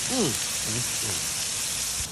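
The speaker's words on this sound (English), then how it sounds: "Hear that sizzle?" Constant hiss of backstrap meat frying in butter on a hot griddle, with a few short voiced sounds over it early on.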